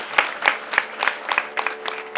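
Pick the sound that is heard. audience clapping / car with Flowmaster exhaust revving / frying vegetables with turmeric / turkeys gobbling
audience clapping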